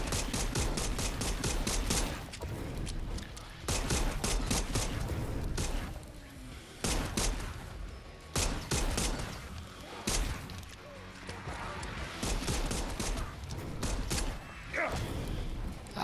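Rapid bursts of gunfire in the zombie video game Dead Island 2, with clustered shots and clanking mechanical noises, loud and dense in the first half, then sparser, with a voice talking underneath.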